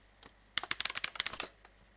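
Fast typing on a computer keyboard while entering a web search, a brisk burst of about a dozen crisp key clicks close by, preceded by a lone tap and followed by one more, with no speech.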